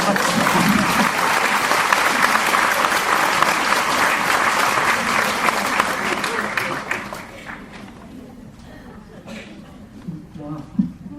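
An audience claps loudly and steadily, a dense wash of applause that thins out toward the end into a few scattered claps and quieter room noise.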